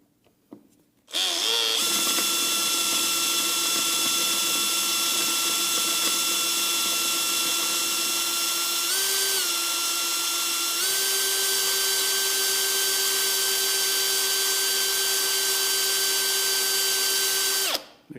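A power drill bores into a metal arbor press stand with a sustained high whine that holds steady for about sixteen seconds, dipping briefly in pitch under load midway, then stopping abruptly.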